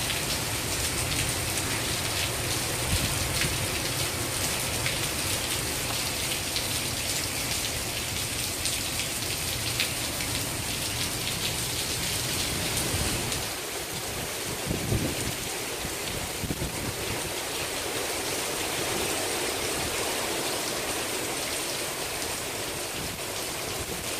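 Heavy rain from Hurricane Irma pours down in Central Florida, a dense, unbroken roar of downpour with brief gusty surges partway through.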